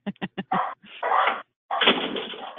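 Dogs bark at home in the late afternoon as someone arrives: a quick run of four short, sharp barks, then longer, louder bursts of barking separated by brief pauses, close to the microphone.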